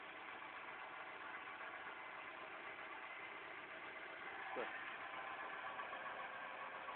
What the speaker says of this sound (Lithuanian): dabar variklis yra dirbantis ant dujų